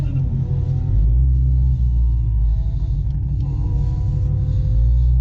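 A 2020 Ford Mustang GT500 with Carbon Fiber Track Pack and Cup 2 tires makes a loud, continuous engine roar on a drag strip, a heavy low rumble rising steadily in pitch as it pulls hard through the run.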